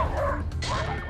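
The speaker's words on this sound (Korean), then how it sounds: "공원의 평화를 무참히 깨버리는 루이의 울부짖음." A dog pulling on a two-handle leash during a park walk lets out loud, close yelping barks and a howling whine in a short burst.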